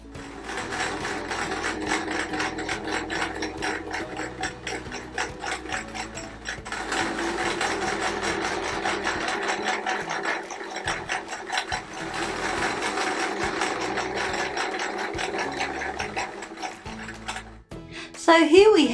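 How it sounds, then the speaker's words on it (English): A sewing machine stitching a quilt border, its needle chattering in a fast mechanical rhythm that runs almost the whole time with short pauses, close by. It stops near the end. "It's time to get the sewing machine out for one last stint"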